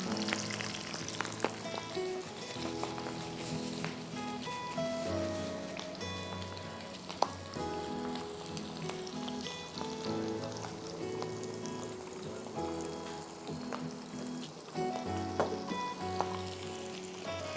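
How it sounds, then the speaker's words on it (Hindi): Shrimp sizzle steadily in hot Mundial pomace olive oil, a dense, continuous crackle with small popping bursts throughout, close and fairly quiet with no voice over it. "I am frying it in my favourite Mundial पॉमेस olive oil"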